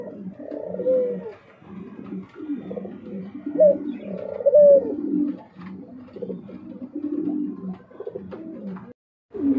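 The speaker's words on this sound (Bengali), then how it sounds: "আর এখানে আরেকজোড়া ঘুঘু দেখতে পাচ্ছেন" Soft, low cooing of doves repeated in rhythmic phrases, several birds calling close by with short pauses between bouts.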